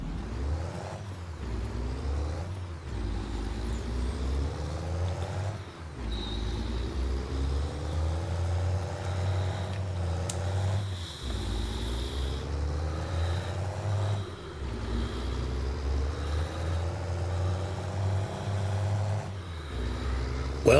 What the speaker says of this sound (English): Wow, busy road.